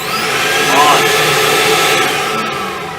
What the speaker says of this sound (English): pulls out the vacuum, and then there's only one setting for the vacuum,